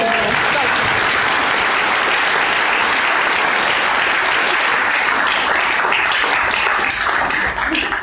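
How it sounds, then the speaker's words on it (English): Audience applause after a guest's talk at a live event, with dense, steady clapping filling the whole stretch at close, loud level and no break. "If you could just give another round of applause for Alan Bissett for coming up."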